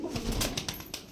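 A male domestic pigeon coos in a few soft, low, throaty pulses at close range, with faint rustling and handling noise around it.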